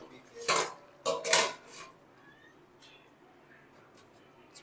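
Spoon cutting through a cooked piece of food in a home kitchen, heard as two or three short scraping clinks against a dish close by, followed by quiet room noise and a faint tap at the end.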